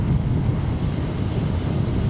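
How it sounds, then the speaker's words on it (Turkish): Steady, roaring mountain wind buffets the microphone with constant low rumble and broadband noise, loud and unbroken throughout. "burada da acayip bir rüzgar var"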